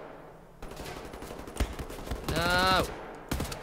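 Gunfire from the Wolfenstein: The New Order shooter game crackles in several short bursts, with a louder sustained volley near the end and a voice talking over parts of it.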